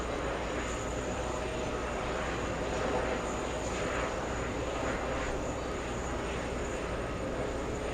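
Lufthansa Boeing 747 jet at JFK airport: a steady, broad engine roar fills the whole stretch at moderate distance, with no clear rise or fade.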